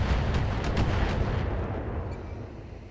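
Weapon fire in the mech game Battletech, a rapid barrage of booming shots and crackling impacts rolling together at a loud, steady level, then fading slightly toward the end with no talk.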